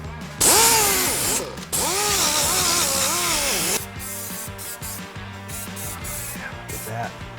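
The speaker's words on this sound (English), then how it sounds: "what I have to do is grind it flat so my bracket sits flat on the cross" An angle grinder whines against a steel cross member on a 1973–1987 Chevrolet C10 pickup, loud and close in two long passes with the pitch bending under load, then winding down to quieter clatter.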